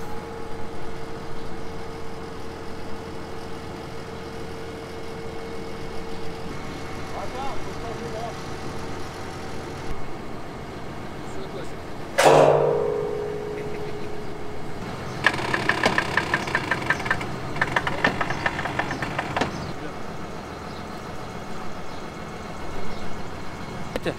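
A tractor engine idles steadily on a farm, then revs up briefly with a sharp mechanical clunk before settling into a rougher running note, with people talking nearby.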